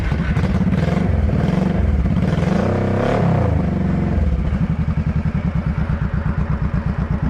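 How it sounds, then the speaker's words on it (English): A carbureted 2006 Honda Shadow motorcycle fitted with Cobra exhausts fires up and revs, then settles into a steady, loud, close-up rhythmic thumping idle. "It sounds real good with that Cobra exhaust"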